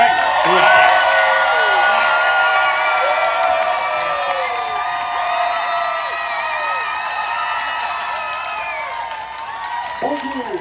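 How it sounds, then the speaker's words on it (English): A live comedy pun competition audience cheers, whoops and claps loudly, a dense roar of many voices shouting and whistling, close and sustained, gradually fading slightly toward the end. "Clap for Emma"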